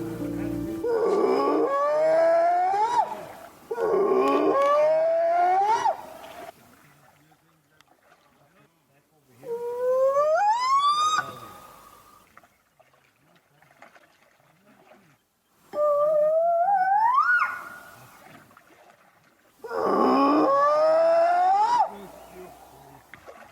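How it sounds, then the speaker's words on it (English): Recorded Bigfoot whoops and howls are blasted from a call device while crossing a lake in the Cascade Mountains. Five loud, long wailing calls rise and fall in pitch, separated by quiet gaps. "the surrounding mountains and hills would be echoing with the sounds of Bigfoot whoops"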